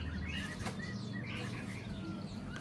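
Two young birds, one large and one small, in a hatching box, giving faint thin high chirps and short tweets over a low background hum, with no talk.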